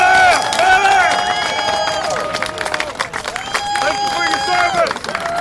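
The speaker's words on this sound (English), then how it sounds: "Please give us some applause for Joe Katz." Rally crowd outdoors in Washington DC applauding and cheering for a speaker, a dense sustained wash of clapping and cheers with shouting voices on top, loud and close throughout.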